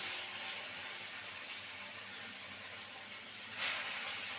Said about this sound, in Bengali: তেলটা খুব ভালো মতন গরম হয়ে গেছে এবার মাছগুলোকে ছেড়ে দেব